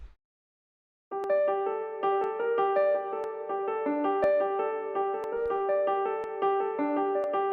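A simple piano melody with the bass notes removed enters after a second of silence, with bright, evenly paced notes ringing alone and close.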